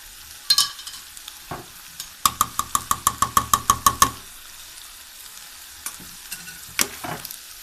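Vegetables stirred with sauce in a hot pan, a quick run of sharp spoon-against-pan knocks over a soft sizzle, with a few scattered scrapes before and after.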